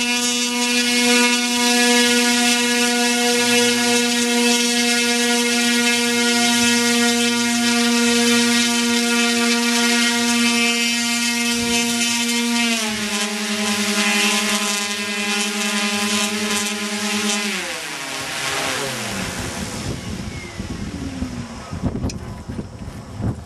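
An electric motor on a 132-inch RC Wellington model plane spins at around 7,000 RPM with a loud, steady whine that shifts down in pitch mid-run and then winds down toward the end, with wind noise.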